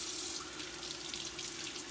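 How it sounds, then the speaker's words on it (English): Cold tap water runs steadily into a sink while an onion is rinsed for a slow-cooked beef stew, a soft, continuous splashing flow with no voices. "So here comes the water."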